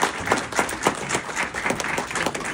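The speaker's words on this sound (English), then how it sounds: "let's give them a round of applause" An audience gives a round of applause, uneven clapping that swells and dips in soft waves, moderately close and without talk over it.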